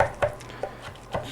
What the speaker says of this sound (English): dice that up just a little bit more fine.